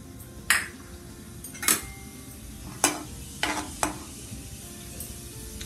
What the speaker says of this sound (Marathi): तेल गरम झालंय, पण जिरं टाकते मी.